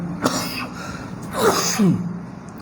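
A couple of harsh, throaty coughs close by, breaking out in short bursts with brief pauses between them.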